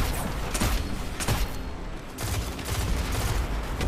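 Dense, continuous gunfire in a Destiny 2 multiplayer match, many weapons shooting at once in loud overlapping volleys with barely a pause, close and heavy throughout.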